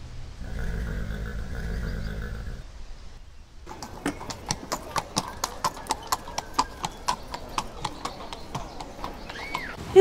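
Steady clip-clop of horse hooves for a toy Barbie fairytale horse and carriage, a run of evenly spaced hoofbeats following an earlier tonal passage, close and fairly loud.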